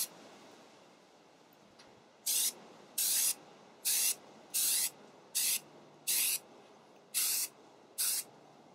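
Spray paint hisses from a can onto a vase being upcycled in a craft project, about eight short bursts in a steady rhythm with brief pauses between them.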